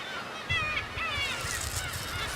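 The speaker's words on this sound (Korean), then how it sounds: "워낙 많은 갈매기가 한꺼번에 몰리다 보니 영역 다툼이 심심치 않게 일어납니다." Black-tailed gulls squabble over nesting territory in a crowded colony on Dokdo, harsh overlapping calls rising and falling close by over a constant background din of the flock.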